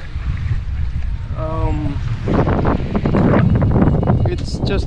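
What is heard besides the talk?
sailboat sailing downwind in the tropics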